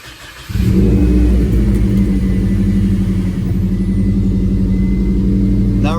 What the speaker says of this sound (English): Let it idle for 10 minutes.